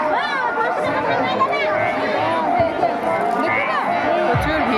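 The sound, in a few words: crowd chatter at Shivratri fair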